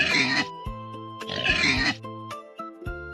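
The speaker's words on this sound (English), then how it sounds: "This is a pig. A pig says," A pig on a farm makes two loud, rough bursts of grunting and oinking, separated by a short pause, with a soft musical background.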